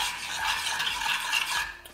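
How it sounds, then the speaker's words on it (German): A spoon stirs sugar water in a pan on the stove over medium heat, a steady close scraping swirl that runs continuously for about two seconds and fades at the end, with no talking. "so gehe ich mit einem Löffel kurz rein, verrühre das Ganze."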